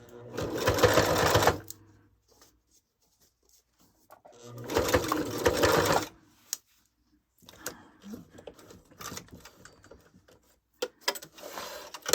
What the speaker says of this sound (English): Stitching, placing my fabric.